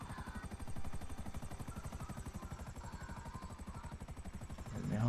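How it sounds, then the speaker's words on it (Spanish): A helicopter in GTA V Online comes in to land, its steady rotor chop pulsing loud and continuous throughout, with a brief burst of other game noise near the end. "Me estoy aterrizando con el helicóptero para que subáis, tío."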